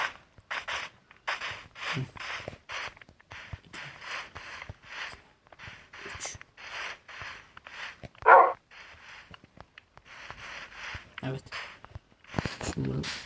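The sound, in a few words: dog in the Minecraft video game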